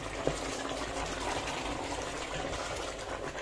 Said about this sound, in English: you add a little of the water